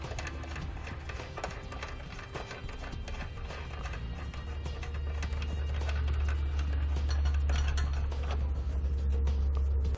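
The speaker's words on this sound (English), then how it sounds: "We're going to loosely secure one bolt on each side just so the hitch will support itself" A ratchet tightens the bolts of a Curt trailer hitch under a 2017 Ford Explorer, making rapid clicking that runs on steadily. A low mechanical rumble builds beneath it in the second half.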